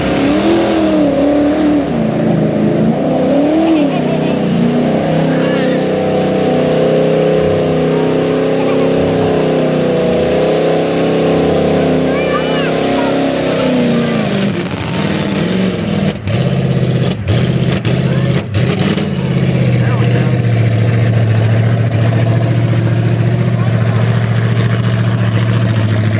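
A big mud-covered pickup truck engine revs hard and steadily, loud and close, with the pitch rising and falling across the run before settling into a deep, heavy drone near the end.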